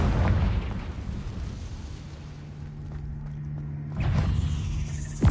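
A Confringo explosive spell cast in Hogwarts Legacy booms out in a dense burst of rumbling blasts, easing into a lower steady hum before another loud explosive hit near the end.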